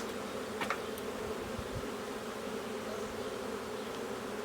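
A dense, continuous drone of many honeybees buzzing around a caught swarm in April, steady and close throughout, with a few faint thumps.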